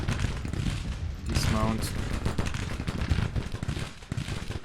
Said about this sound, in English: they're firing on enemy cannons